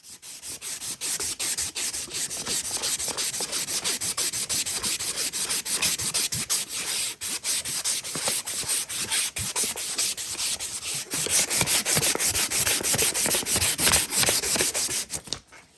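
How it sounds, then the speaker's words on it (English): Sandpaper scrubs a rusty throttle tube from a 1980 Suzuki TS185 motorcycle that sat for over 20 years, a steady, close, continuous rasping rub that grows louder near the end, with no talking. "take some sandpaper and go over that after I get the heavy stuff off it"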